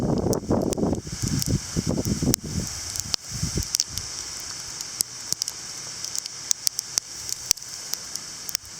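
Wind-driven graupel during a November snow squall pelts and rattles nearby surfaces as a dense hiss, broken by sharp ticks and pops; a few loud gusty bursts in the first seconds, then a steadier patter.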